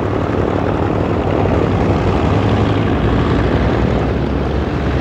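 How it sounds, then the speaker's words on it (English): B-25C Mitchell bombers fly overhead, their piston engines and propellers making a loud, continuous droning roar throughout. "These Mitchells, which appear to be the C model, make their way on one more mission."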